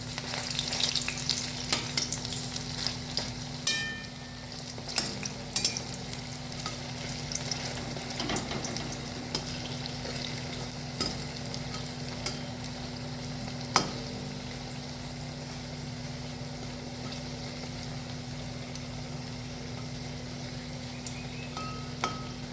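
Drumstick flower fritters (bora) fry in oil in a village kitchen, a long, steady crackling sizzle with a low background hum and scattered sharp clicks and pops, close and even throughout without speech.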